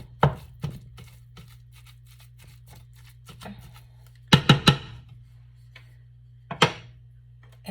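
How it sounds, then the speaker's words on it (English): Ground beef browning in a pan for zucchini-noodle keto lasagna, broken up with a utensil: sparse sharp taps and scrapes, a quick cluster of louder knocks midway, over a low steady hum. "I'm just gonna break that up into little chunks so that it's easier to cook."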